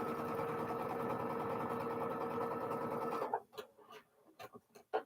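A sewing machine stitches fabric flowers in a steady, fast mechanical whir for about three seconds, then stops, leaving a few short clicks and bumps of handling.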